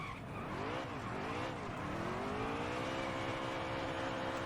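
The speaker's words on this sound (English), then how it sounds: "Let's do a burnout." A NASCAR stock car in the NASCAR Heat 3 video game does a burnout at Bristol: a loud, continuous tire squeal over a roaring engine, its pitch sweeping and wavering before settling into a sustained high screech.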